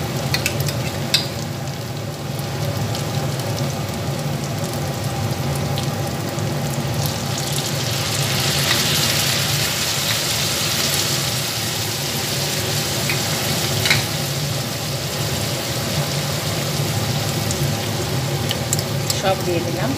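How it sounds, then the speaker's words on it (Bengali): Soy sauce and tomato sauce go into a frying pan of chilli bhetki fish, giving a continuous loud sizzle with scattered clicks and scrapes of stirring throughout. "এক এক করে সয়া সস আর টমেটো সসটা দিয়ে দিচ্ছি"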